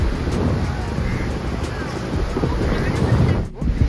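Sea waves wash onto crowded Digha beach in a continuous surf roar, with gusty wind buffeting the microphone and faint voices in the background.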